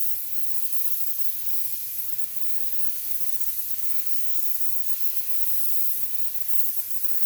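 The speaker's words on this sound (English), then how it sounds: "then I'm going to spray this on and talk my way through it." A continuous hiss of ceramic coating sprayed from an aerosol nozzle onto a car wheel, close and steady throughout, with no pauses.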